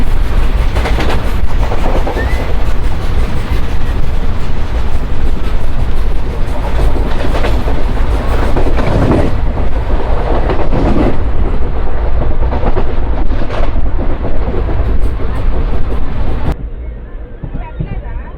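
The Palnadu Superfast Express with ICF coaches runs at speed, a loud continuous rumble and clatter heard from on board, with a voice talking over the noise.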